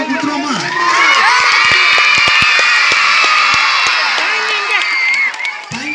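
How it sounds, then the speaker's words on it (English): A crowd of teachers and students cheers and claps after a Saha Kalai Kulu folk dance performance at a college event, with loud whoops and children shouting over continuous applause that swells early and fades slightly near the end. "Now, there are a big round of applause."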